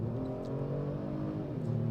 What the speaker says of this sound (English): And now let's give it full throttle.